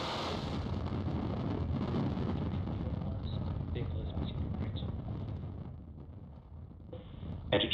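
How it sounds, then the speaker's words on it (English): A SpaceX Falcon 9 carrying 20 Starlink satellites roars after liftoff as a broad, rumbling, wind-buffeted noise that stays loud and fades slightly before surging again near the end. "We have liftoff. Falcon 9 has cleared the tower."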